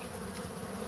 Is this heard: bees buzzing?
yes